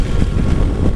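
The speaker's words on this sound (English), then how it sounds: "I'm getting pretty good wind blast" Steady roaring wind buffets a rider's helmet on a 2016 Yamaha FJ-09 motorcycle at speed, a dense continuous rush with no pauses and no speech over it.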